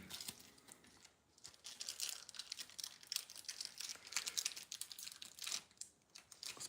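Trading card pack wrappers for throwback Campbell Soup cards are torn open and crinkled up close, a steady stretch of sharp plastic rustling and crackling with no one speaking.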